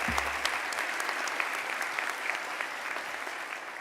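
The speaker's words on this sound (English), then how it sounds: "we'll give her a warm round of applause" Warm round of applause from a commencement audience, a dense, even wash of many hands clapping at moderate distance, steady and alone.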